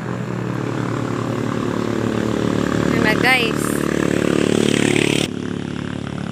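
A motorcycle engine approaching on a rough mountain road, a continuous loud buzzing drone with a rising-and-falling whine near the middle, while someone speaks briefly over it.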